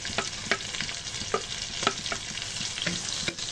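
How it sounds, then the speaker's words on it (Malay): Bird's eye chilies and large green chilies being stir-fried for egg fried rice, a soft steady sizzle with a rhythm of spatula scrapes and taps up close. "cili padi kita masuk sekali. Tumiskan dia, cili hijau besar."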